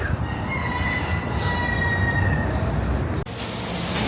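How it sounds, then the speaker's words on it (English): A Miami Metromover car rumbles past overhead with steady low roar and high squealing wheel tones, loud and continuous, dropping briefly before the noise resumes. "I can hear the Metromover above."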